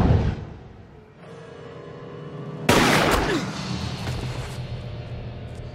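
A sniper rifle shot in the video game Sniper 2 cracks out loud and sudden partway through, breaking a low ambient bed and leaving a lingering echo and rumble.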